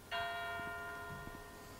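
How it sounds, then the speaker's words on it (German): A church bell in the Westerturm tower rings out once with a bright, sustained metallic tone that slowly decays, a few soft thuds behind it. "Die Glocke vom Westerturm."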